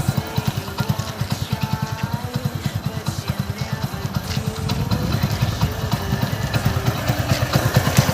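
A Hero Splendor Plus motorcycle engine idles close by with a steady, rapid thumping pulse, slightly louder and rougher toward the end.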